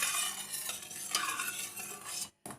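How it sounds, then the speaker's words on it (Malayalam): Homemade tomato sauce is stirred and reduced in a pan, with a steady scraping, bubbling stir that runs close and continuous, then cuts out briefly near the end before resuming. "ഇനി ഇത് നന്നായിട്ട് ഇളക്കി കുറുക്കിയെടുക്കുക"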